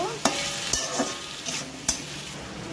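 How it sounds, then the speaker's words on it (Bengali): Small fish are stirred and sautéed in a pan with a little water added bit by bit, giving a steady sizzle broken by a few sharp scrapes of the spatula against the pan. "তারপরে একটু একটু যখন শুকিয়ে যাচ্ছে তখন অল্প অল্প করে একটু একটু করে জল দিয়ে নিচ্ছি"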